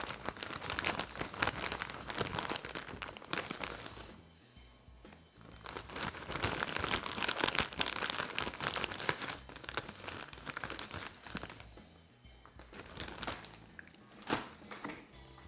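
Clumps of lichen for a model railway diorama handled and pulled apart close up, giving dry crinkling and crunchy tearing sounds in bursts with brief pauses, no talking.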